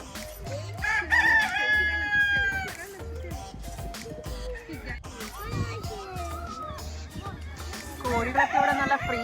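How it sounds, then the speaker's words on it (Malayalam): Roosters crow and chickens cluck at a reserve park in Qatar, several drawn-out crows near and far with children's voices and talk in the background. "നാട്ടിലെ പോലെ പൂവൻ കോഴികളൊക്കെ ഉണ്ട്."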